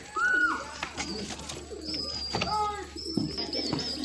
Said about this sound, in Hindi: इस कबूतर का शौक करें दोस्तों, ये बहुत ही प्यारा कबूतर है।